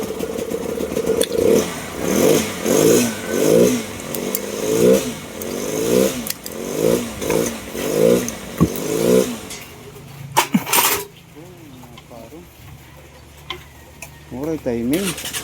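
A motorcycle with a MAP sensor circuit-low fault and misfiring engine starts and idles roughly nearby, surging in about eight rhythmic rev pulses before dropping to an uneven idle, with someone talking over it.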